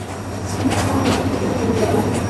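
A passenger train in Bangladesh rolls along its rails, heard up close from the carriage roof as a loud, continuous rumble with rhythmic wheel clatter and faint squeals.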